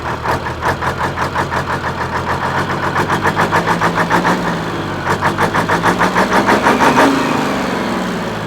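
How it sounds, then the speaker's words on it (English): An old 1983 grain truck engine that had sat parked for years runs at a steady idle, its exhaust giving a loud, even rhythmic pulsing with some uneven lumpiness near the end, close up with no talking. "but the engine runs."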